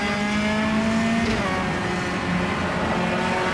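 A small 4-cylinder touring car engine in the Automobilista racing game, revved hard toward 7,000 RPM, holds a loud, steady high-pitched drone with a brief pitch dip midway, continuous throughout.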